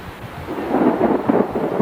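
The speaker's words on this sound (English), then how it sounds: "Every day about this time we get this rain." A brief, heavy low rumble of thunder from an afternoon rainstorm on a Florida beach, with a wash of rain noise, loud and close for under two seconds.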